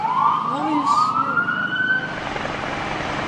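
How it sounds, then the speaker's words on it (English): An emergency siren on a Manhattan street during a gas-explosion response in Harlem, a loud rising and falling wail near the start that fades into traffic rumble and city noise. "Ambulance."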